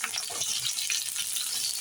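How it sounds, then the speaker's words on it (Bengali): Cumin seeds, onion, green chili and bay leaves fry in hot oil in a karahi as the base for a magur fish curry, giving a steady, close sizzle and crackle throughout with no voices. "1 চা চামচ জিরে, পেঁয়াজ, কাঁচামরিচ, তেজপাতা এগুলো দিয়ে ভালোভাবে লাল লাল করে ভাজতে হবে।"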